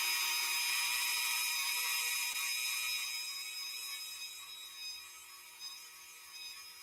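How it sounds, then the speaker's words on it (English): A drill bores down the center of a toy, giving a continuous high whirring grind that holds steady and then slowly fades. "We're gonna drill right down the center."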